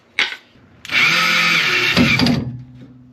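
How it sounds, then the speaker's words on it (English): A short tap, then a power drill whirs loudly for about a second and a half, bogging down as it bites into wood inside a camper van before winding off. "drill the hole using an actual drill bit"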